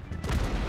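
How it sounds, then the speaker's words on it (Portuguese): Gunfire from a tank battle video game, a short burst of dense, booming shots heard briefly and fairly quietly, with no talking over it. "O tiro veio do nada, mano."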